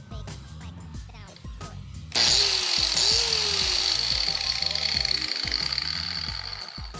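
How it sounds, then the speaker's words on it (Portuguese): A repaired electric power sander whirs to life after a short pause, running loud and steady with a high whine and grinding rumble. "lixadeira funcionando perfeitamente"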